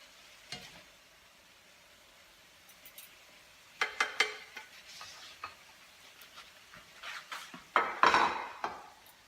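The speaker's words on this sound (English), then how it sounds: "Veggies are sizzling away." Sizzling vegetables in a pan sit under faint, clattering cookware sounds, with scattered clinks and scrapes of a utensil that grow busier toward the end.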